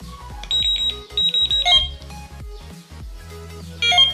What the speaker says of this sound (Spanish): Ya me ha confirmado el receptor que están todas las alarmas configuradas